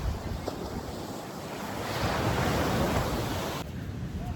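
Ocean surf and wind on Oruwella beach roll in a constant broad roar, swelling slightly in the middle and dropping abruptly near the end, with steady buffeting wind noise on the microphone and no talk.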